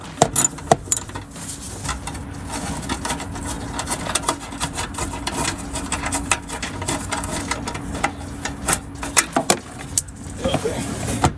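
A ratchet wrench fitted with a 7/16 socket loosens bolts on the nose panel of a 1999-2004 Ford Mustang, giving rapid close clicking and metallic rattling in uneven bursts, with occasional clunks and no talking.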